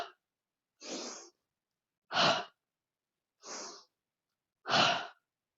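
Four slow, audible breaths during a beginner warming yoga flow, each a soft, airy, sigh-like exhale spaced about a second apart, close and clear against silence.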